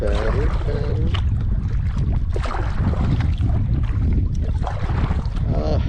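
A boat paddled on the Mississippi River in wind, with strong wind buffeting the microphone and water sloshing in a constant loud roar, and faint voice-like sounds under the noise.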